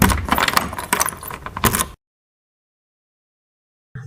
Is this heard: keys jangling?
yes